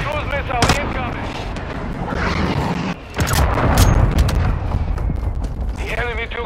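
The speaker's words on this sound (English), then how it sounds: "Hunter cruise missile incoming." In a Call of Duty Modern Warfare match, a Hunter cruise missile strike lands as a deep rumbling explosion, followed by booming artillery-like blasts and gunfire under chatter and radio-style voices.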